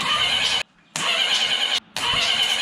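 A cheap used $500 motorcycle engine turning over on its starter, powered by a battery jumper during a compression test: two long grinding cranking bursts separated by short silences, close and loud.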